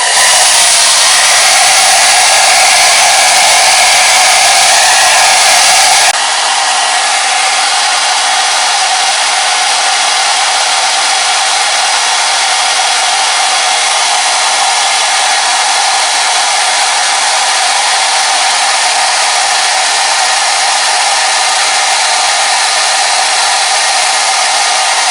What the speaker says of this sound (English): if you don't like to hear the sound of a hairdryer, then turn down your volume now